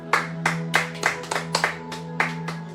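A church congregation claps together in praise, a loud rhythmic run of roughly even hand claps about three per second, close and distinct against a low sustained musical hum.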